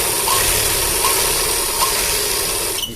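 Sewing machine running steadily while stitching pant fabric, a continuous close mechanical whir with a light ticking rhythm, ending abruptly as it stops.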